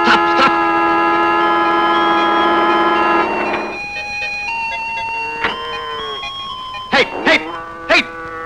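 A harmonica plays sustained chords by a modern cowherd on a road, loud and steady for about three seconds, then fades into quieter tones with scattered sharp bursts near the end.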